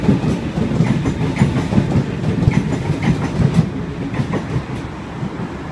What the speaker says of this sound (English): Also got Waratah A17 departing platform 1,